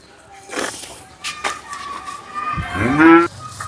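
A cow at a cattle sale moos once, loud and close, near the end, after scattered bits of people talking and rustling.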